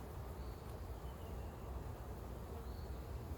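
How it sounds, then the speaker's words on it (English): Honeybees buzz in an open hive during a late April inspection, a faint, steady hum that holds evenly for the whole stretch with no pauses. "I hear bees."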